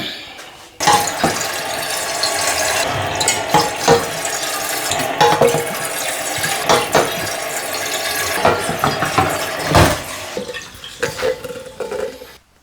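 Tap water runs steadily into a homebrew Coopers lager fermenter, topping it up toward 23 litres, a continuous close rushing pour with occasional knocks and clatters, no talking.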